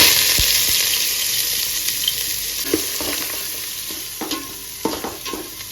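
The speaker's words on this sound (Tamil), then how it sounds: "வெங்காயத்தை சேர்த்து நல்லா வதக்கலாங்க." Onions sauté in hot oil with mustard seeds, a steady close sizzle broken by scraping stirs and small clicks of the spoon against the pan.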